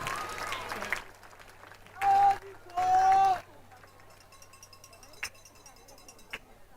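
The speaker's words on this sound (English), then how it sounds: "Give a round of applause" Applause and cheering from a crowd in the stands at a Spartans high school football game, heard in two loud bursts with a quieter crowd murmur and scattered sounds between them.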